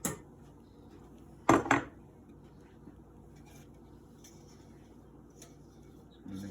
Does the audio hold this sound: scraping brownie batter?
yes